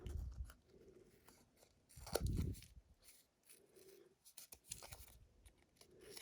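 Scissors snipping greenery for a sand and sea frame art craft, a few quiet, close crunchy cuts in short clusters with pauses between them, no voices.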